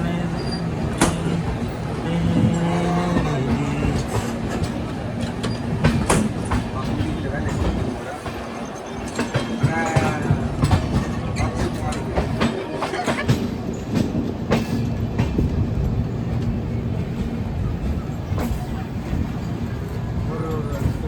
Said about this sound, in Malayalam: നമ്മൾ വൽസാദ് റെയിൽവേ സ്റ്റേഷനിൽ നിന്ന് പോവുകയാണ്